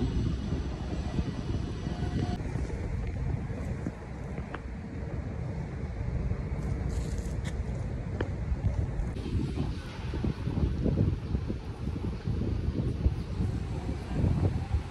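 Gusty wind buffets the microphone in a constant low rumble on an open walk in Arca South, Taguig, with a faint distant engine hum running underneath.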